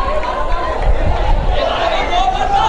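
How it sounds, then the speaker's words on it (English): Spectators at a 2019 schools rugby match between Vidyartha and CWW Kannangara create a loud, continuous wash of crowd noise, chatter and excited shouting that rises and falls as play moves. "Seems like the crowd is enthusiastic from that."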